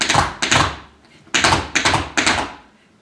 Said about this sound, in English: a cramp roll is toe, toe, heel, heel.